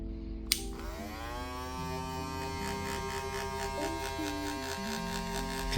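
Brand-new Wahl Vapor hair clippers run with a steady electric buzz and hum, the motor audibly surging and sagging in speed, close and fairly loud, alone without talk.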